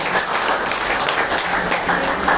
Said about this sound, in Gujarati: તાળી થઈ જાય જોરદાર બધા માટે. જોરદાર ક્લેપિંગ થઈ જાય.